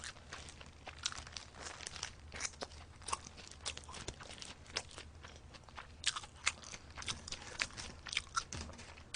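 A McDonald's 1955 burger being bitten and chewed up close, with soft crunches, wet chewing and occasional wrapper crinkles in an irregular rhythm, fairly quiet, without talking.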